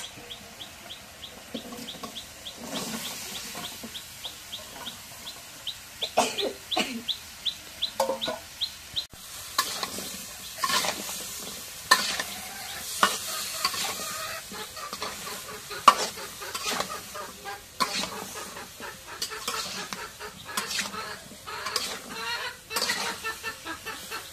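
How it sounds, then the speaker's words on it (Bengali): Bottle gourd being stir-fried with spices in a pan, giving a steady sizzle with frequent scraping and stirring clatter throughout, while a rooster crows and chickens cluck faintly in the background. "মশলা কষা এখন লাউগুলো দিয়ে দিই।"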